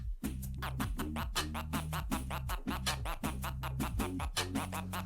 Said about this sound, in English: chirp scratches in normal timing sound like this.